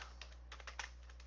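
Typing on a computer keyboard, a short run of faint, quick, irregular key clicks over a steady low hum, no voices.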